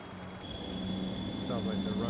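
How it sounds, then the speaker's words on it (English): MD80 airliner engines starting up in Microsoft Flight Simulator, a steady rising whine and hum that grows gradually louder inside the cockpit, with a voice talking over it. "Try to start an engine here."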